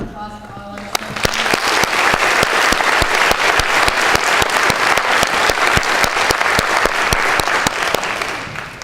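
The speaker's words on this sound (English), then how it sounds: "Please get a round of applause for all our students" A high school audience applauds for students at a volunteer service award ceremony, with loud sustained clapping that starts after a brief spoken moment and holds steady to the end.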